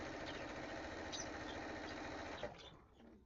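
A sewing machine stitching quilt pieces together hums steadily and rapidly at close range, then winds down and stops near the end.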